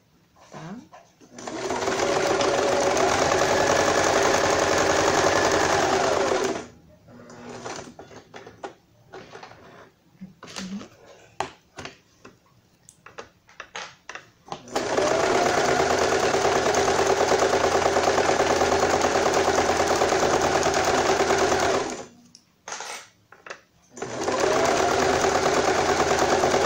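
An electric sewing machine stitches a guinea pig bed made with a blanket. It runs in three loud, steady bursts separated by pauses filled with quieter handling and rustling.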